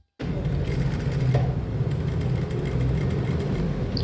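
A sewing machine stitches a blouse back neck design, its motor running in a steady, fast mechanical whir that starts abruptly after a brief silence and continues evenly and close, with no voices.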